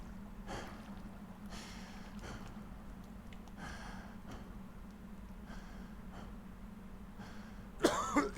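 Coughing underwater in a bathtub full of blood in the horror video game Visage, with muffled bursts of coughing spaced over a steady low hum and a louder splash near the end.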